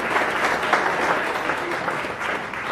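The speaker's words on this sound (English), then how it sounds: "A better round of applause for our" A roomful of people at an awards ceremony for Kenyan Muslims applauds steadily in a brief, even burst of dense clapping.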